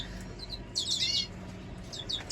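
Caged redpolls and siskins, show birds kept as cocks and hens, chirp in short bright bursts, with a louder flurry of high tweets in the middle and a few more near the end, over a low room hum.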